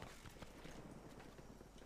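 Horse hooves clop in rapid rhythmic beats during a Battlefield 1 match in the Sinai Desert, heard close and steady within a busy, dense game mix with no clear talk.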